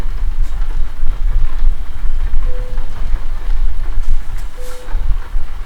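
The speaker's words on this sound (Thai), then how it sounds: "แต่ยังมีฝนนิดหน่อย" Rain in Euro Truck Simulator 2 patters steadily on a truck on a UK road between Glasgow and Aberdeen, mixed with a loud, constant low engine rumble throughout.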